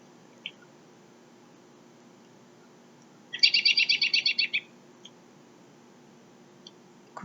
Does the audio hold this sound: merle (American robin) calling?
yes